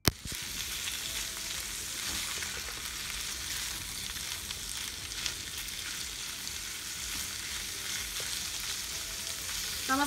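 Sausages frying in rendered bacon fat, giving an even, continuous crackling sizzle that holds steady throughout, heard close and moderately quiet with no talk.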